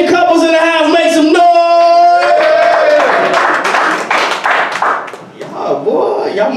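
A comedy club audience at a stand-up show claps in a loud burst of slaps, with whoops and shouts mixed in, before a voice calls out over the dying applause.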